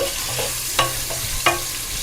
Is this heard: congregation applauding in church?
no